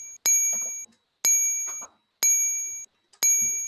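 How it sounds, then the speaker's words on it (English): A bell rings four times at roughly one-second intervals during a charity quiz night to start the answer timer. Each ring is bright and metallic, struck sharply, with a short ringing tail and faint room noise between strikes. "let's get the timer going"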